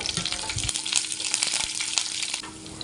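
Curry leaves, dried red chillies and garlic frying in hot oil in a pan, a dense continuous sizzle with light stirring scrapes, close and loud throughout with no speech.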